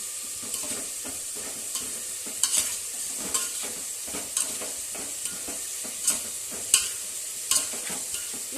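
Curry ingredients, salted, fry in oil while a spoon stirs them, with a soft continuous sizzle and irregular scraping and clinking strokes against the pan.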